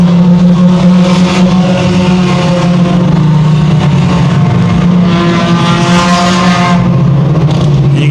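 Sport compact race cars roar around the oval at Evans Mills Raceway Park during a feature race, several engines droning loudly and continuously together with rising and falling revs.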